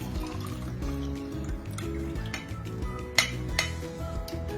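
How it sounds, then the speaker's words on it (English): Pineapple juice drained from a can of pineapple rings is poured into a jar in a home kitchen, giving soft liquid trickling with light clinks of glass and metal and one sharper knock partway through. "Take your pineapple juice and pour it into a jar."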